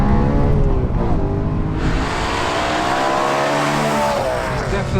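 A manual BMW M3 saloon with a 449 bhp engine revs hard and loud close by, its pitch climbing and shifting through sustained high revs with a faint voice beneath.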